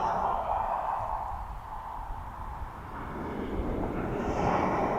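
Steady, broad roar of an EasyJet Airbus A320 airliner moving at an airport, a constant jet drone heard from moderate distance with no talk over it.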